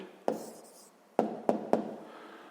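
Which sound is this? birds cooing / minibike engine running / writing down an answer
writing down an answer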